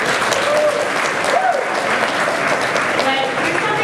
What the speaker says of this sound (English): Let's first of all give John Burroughs a round of applause